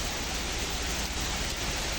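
Heavy rain pours down steadily in darkness during a storm with strong winds and black clouds, a dense continuous hiss filling the scene with no voices.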